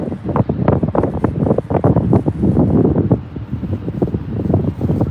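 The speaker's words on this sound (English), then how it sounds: "I'm sure the quality sounds probably pretty bad because it's really windy out here." Strong gusts buffet the microphone in irregular low thumps and roars on a boat, loud and continuous with no other sounds standing out.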